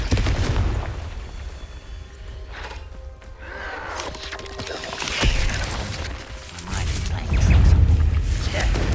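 Confringo fire spell detonations in Hogwarts Legacy on PS5, several deep booming bursts with crackling, gunfire-like impacts spread through the stretch, the biggest ones near the end.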